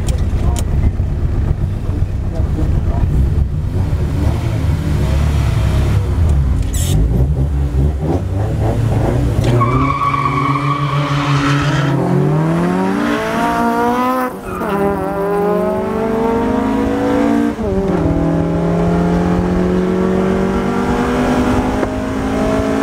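An MK2 VW Golf GTI 16v with individual throttle bodies revs hard in a drag race at Killarney against a fast Honda. The engine climbs loudly through the gears with rising pitch and one abrupt break in the sound.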